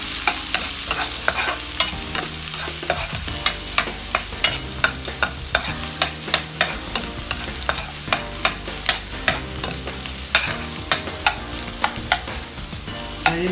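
Garlic frying in hot oil for a Thai pork basil dish, a steady loud sizzle with regular scraping stirs of a utensil through the pan, close up with no talking.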